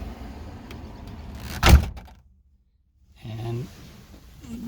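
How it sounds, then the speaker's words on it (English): A 1977 Corvette C3 car door swings shut with a single solid, close thunk, followed by near silence and then a voice speaking. "I'm gonna go close the door"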